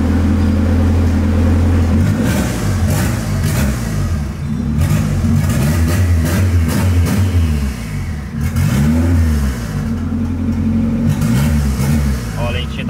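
A car engine revs repeatedly, rising and falling in loud swoops close by, with bursts of voices talking over it, as the engine struggles to hold idle.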